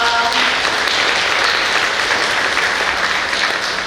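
Steady, full applause from the audience at an art biennale forum opening, a dense continuous patter of many hands clapping at even loudness throughout.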